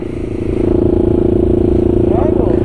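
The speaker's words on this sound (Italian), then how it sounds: "Senti il motore." A loud engine idles close by with a steady, rapid throb, and a voice briefly rises near the end.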